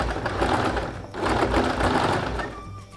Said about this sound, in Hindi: अब आपको फिर इस तरह घुमाना है मशीन को और इस तरह लॉक करना है।